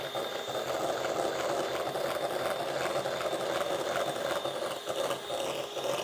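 An electric whisk beating mascarpone into cream, a steady close mechanical whir with a rattling buzz that runs unbroken throughout.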